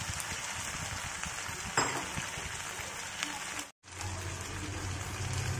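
Fried potatoes go into spices frying in a pan for an aloo-phulkopi rui fish curry, giving a steady close sizzle with a short clatter as they land and a brief gap near the end.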